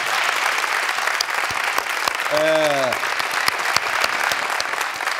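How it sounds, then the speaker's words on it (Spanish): A studio audience at a late-night Spanish talk show applauds in a steady burst of clapping, with a brief voice rising over it midway. "Un aplauso para ese futuro"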